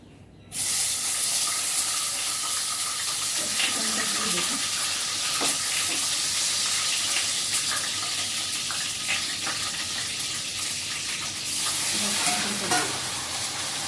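Food frying in hot oil in a home kitchen, a steady broadband sizzle running throughout with intermittent scraping stirs and faint clinks, close and moderately loud, with no speech.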